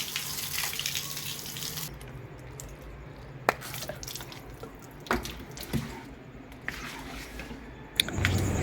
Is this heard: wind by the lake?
no